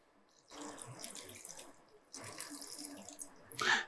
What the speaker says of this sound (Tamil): இதுக்கப்புறம் கொஞ்சம் தண்ணி.